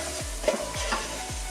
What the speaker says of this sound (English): So we'll stir that around for a minute or two.